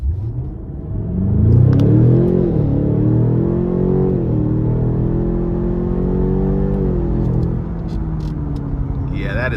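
A 2019 Cadillac CT6-V Blackwing accelerates hard from inside the cabin, its engine note rising loudly through the revs, dipping at shifts and climbing again in a strong sustained pull.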